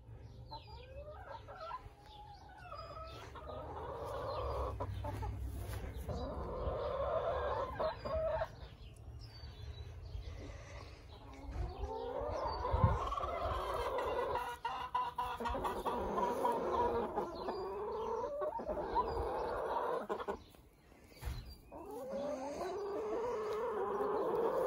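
Backyard chickens cluck and murmur continuously at close range, a busy flock sound with overlapping calls and occasional louder squawks over faint outdoor noise.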